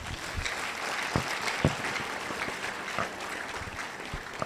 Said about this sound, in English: Clap for this young man.